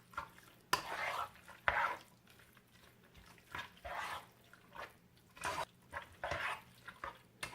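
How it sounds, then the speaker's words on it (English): Chicken alfredo with chickpea pasta is stirred in a pot, giving repeated soft, wet scraping and squelching strokes, close and quiet, with no talk. "now we're just going to stir that up again and get it all mixed real good"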